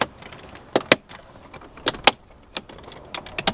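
Thin dashboard trim on a BMW F30 is gently rocked loose by hand, giving a series of small sharp plastic clicks and snaps, close and irregular, with quiet pauses between them.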